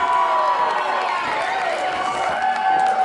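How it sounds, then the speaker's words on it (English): A wrestling crowd roars and cheers for an Irish wrestler, a dense sustained wall of voices at an indoor pro wrestling show, loud and continuous with shouting mixed in and speech over it. "This crowd going crazy here for the Irishman."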